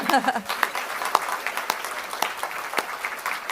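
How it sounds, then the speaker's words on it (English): Audience applause at the 2025 Queensland Australian of the Year Awards ceremony, a continuous, fairly loud wash of clapping with sharp individual claps standing out and a brief voice at the start. "Another round of applause."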